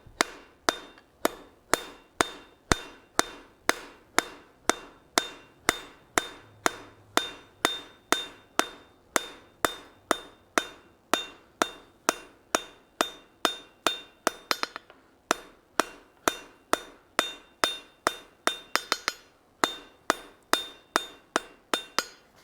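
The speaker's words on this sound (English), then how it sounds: "So let me go ahead and hammer this." Hot steel being hammered while forging blacksmith tongs, a long run of sharp, evenly spaced ringing hammer blows, about two per second, close and loud, with a short pause near the end and no talking.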